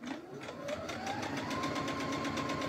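A sewing machine runs a straight stitch along a quilt-as-you-go seam, a steady rapid mechanical whir with a faint rhythmic tick that rises slightly in pitch as it speeds up, close and alone.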